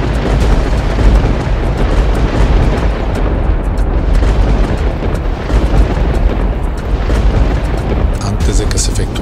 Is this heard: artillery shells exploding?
yes